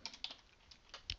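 Quick keystrokes on a computer keyboard, a handful of light, uneven clicks in short bursts, faint and close.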